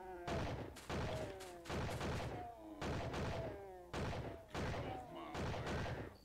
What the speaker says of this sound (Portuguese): Vocês estão dando tiro na grade